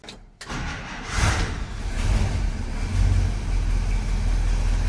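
An International 1110 tractor engine starts and settles into a rough, loud idle with a low rumbling chug and some hissing roughness from an exhaust leak.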